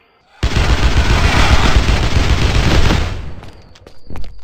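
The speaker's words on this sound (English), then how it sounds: "I'm shooting at the dude." Rapid gunfire in the video game Castleminer Z, a loud sustained burst of shots lasting about three seconds before cutting off into quieter clicks.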